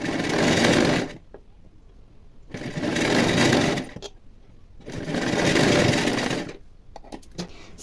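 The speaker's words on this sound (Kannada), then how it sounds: "ಮೇಲ್ಗಡೆ ಒಂದು ಸ್ಟಿಚ್ನ ಹಾಕಿಬಿಡಿ." A sewing machine stitches blouse belt strips together in three loud, close bursts of about a second each, separated by short quiet pauses, with no talking.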